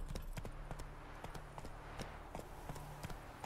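Horse hooves clip-clopping steadily as a horse sets off in the Witcher 3 video game, a quiet even rhythm of close hoofbeats over soft background ambience.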